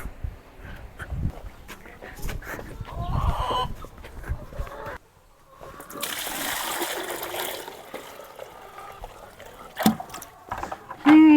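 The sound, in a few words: chickens clucking on a farm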